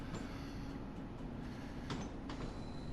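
A train in the Train Sim World simulator runs too fast, giving a steady, quiet rolling rumble with a couple of faint higher clicks, heard alone.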